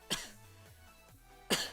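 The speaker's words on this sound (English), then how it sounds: "this cough is killing me" Two sharp coughs, one near the start and another about a second and a half later, close and fairly loud, with quiet background hum between them.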